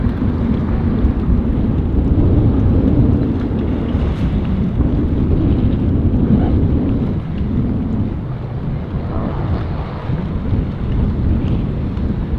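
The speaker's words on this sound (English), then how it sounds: "the wind is cranking today" Strong wind gusts at a boat ramp batter the microphone with a loud, continuous low rumble and roar, rising and falling throughout with no voices.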